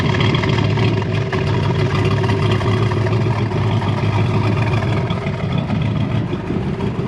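Ford Crown Victoria with a swapped 7.3L Godzilla V8 pulling away, a loud continuous low engine rumble heard from close by, steady throughout.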